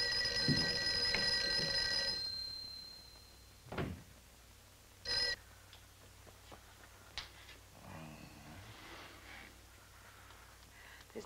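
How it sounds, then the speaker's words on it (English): An old telephone rings loudly for about two seconds, then goes unanswered; afterwards come a few dull knocks and handling thumps in a quiet room. "Mary, see if you can get Jan on the phone."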